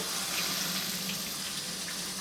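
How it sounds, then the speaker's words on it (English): A cold tap pours in a steady, close, hissing stream over a whole fish being rinsed in a sink, with no voices. "now we're going to clean the fish under running water"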